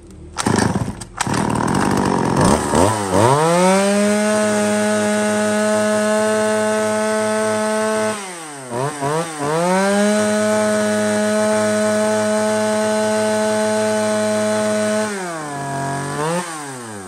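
A used Japanese-import chainsaw, shown alongside Makita models, starts with a sputter and then runs loud and steady at close range, dipping briefly twice as the throttle drops before revving back up.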